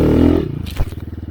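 KTM EXC 125 two-stroke dirt bike riding through snow, a brief loud engine blare dropping into a rapid putter, close.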